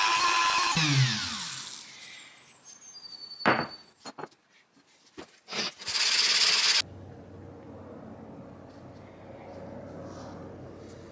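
A vintage Sheffield chisel rubbed on sandpaper, with bursts of close scratchy abrasion between quiet gaps and a couple of sharp handling knocks, then a dull low room noise.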